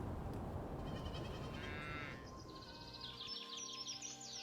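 Goats in the game Land of the Vikings bleat several times, wavering cries up close over a steady rumbling village ambience.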